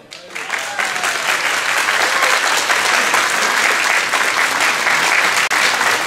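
An audience at a festival singing contest applauds the contestants, a loud, dense, continuous clapping that swells within the first second and carries on steadily to the end, close and full.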